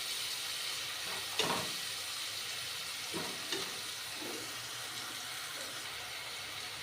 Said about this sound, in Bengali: একটু জল দিয়ে ভালো করে কষে নেব